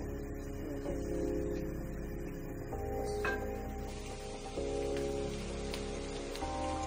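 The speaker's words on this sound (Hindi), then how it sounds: "प्याज को फ्राई नहीं करना, सिर्फ सोटे करना है, थोड़ा लाइट सा।" Onions sautéing lightly in a pan for chicken jalfrezi, a steady soft sizzle and crackle with faint hiss running throughout, close and moderately loud, no talk.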